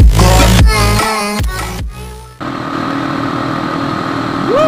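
A motorcycle engine revs hard and accelerates on a Sunday road ride, pitch climbing through gear changes before settling into a steady rushing drone with wind noise, loud and close to the rider.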